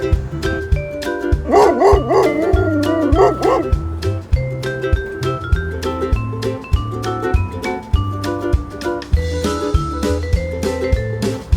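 Dog barks and yips repeat over a steady musical backing, with a rising-falling howl-like tone early on.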